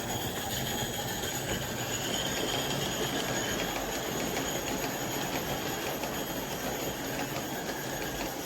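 An Aristo-Craft live steam G-scale model locomotive runs outdoors, with a continuous steady hiss and rapid rhythmic chuffing blended with rolling wheel noise, moderately close and even in level throughout.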